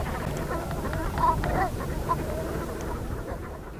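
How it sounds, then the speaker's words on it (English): Migrating flocks of birds on coastal salt marshes honk and quack in a busy outdoor chorus, several calls overlapping at moderate distance against a steady wash of background noise. "migrating flocks of birds come to gorge themselves on the salt marshes"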